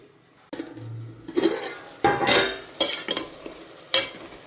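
Tomato chili chutney being stirred and fried in oil in a pan, close scraping stirs in several separate bursts over a soft background sizzle.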